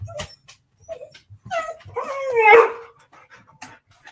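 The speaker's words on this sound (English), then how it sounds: "Dog's going crazy because they can't go outside with the kids." An excited pet dog indoors, restless because it cannot go outside, gives short yips and a whining, whimpering bark, close and fairly loud, with panting between the sounds.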